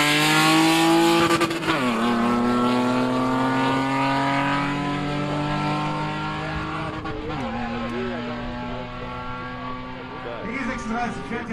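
Mitsubishi Lancer Evo 8 and BMW E36 launching side by side on a quarter-mile drag strip at Brilon, engines roaring loud and close with rising gear-change pulls, a brief tire chirp at launch, then both cars fading down the track.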